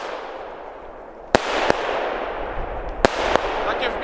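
Store-bought Lidl fireworks going off outdoors, with a crackling, fizzing spray and four sharp bangs in two close pairs over a faint rumbling background.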